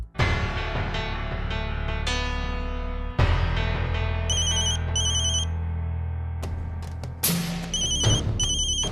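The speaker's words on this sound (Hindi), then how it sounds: "फिर क्यों फोन कर रहा है सतीश?" A telephone rings with an incoming call inside a Hindi television drama scene, a loud electronic ringtone repeating its melodic pattern over several seconds with no talk.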